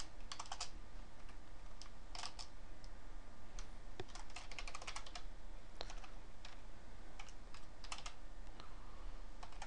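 Steady typing on a computer keyboard, a near, fairly quiet run of quick key clicks in uneven bursts with short pauses, with no talking.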